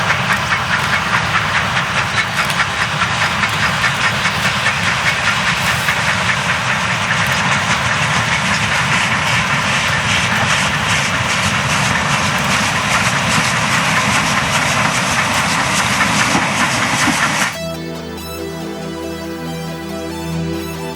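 A narrow-gauge articulated Garratt steam locomotive on 24-inch-gauge track at the Stars of Sandstone 2019 event gives off a loud, sustained roar of steam and rhythmic working noise, which cuts off abruptly into music near the end.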